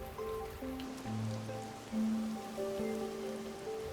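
Steady rain hisses across the whole stretch in the video game Master Detective Archives: Rain Code, running continuously beneath a layer of sustained game music tones.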